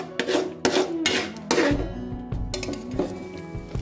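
A spoon stirs and scrapes a sticky peanut chikki mixture around a metal pan in quick, repeated rubbing strokes with occasional clinks, close and fairly loud.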